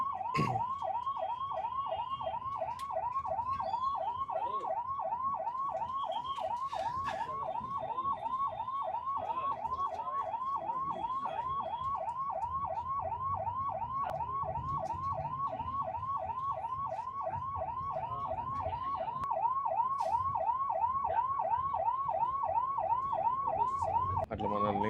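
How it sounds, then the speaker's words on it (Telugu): A bus travelling under police escort on an India to Nepal journey sounds a wailing siren. The tone sweeps rapidly up and down without a break, clear and steady, over faint road rumble. "ఈ బస్సు కూడా సైరన్ ఉందని చెప్పిన కదా, ఈ సౌండ్ ఏదైతే వస్తుందో ఈ బస్ నుంచి వస్తుంది"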